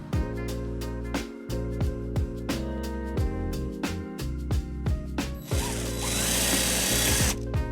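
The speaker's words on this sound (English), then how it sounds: "first we'll go ahead and drill a hole on the right side" A power drill bores a hole for a trailer wiring mounting bracket on a 2013 Nissan Sentra, in short close bursts of whirring that stop and restart, ending in a longer, harsher grinding run.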